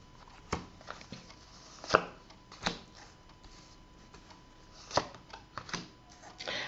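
Tarot cards handled and shuffled at a table give off soft, irregular slaps and papery flicks, scattered and fairly quiet, with no talking over them.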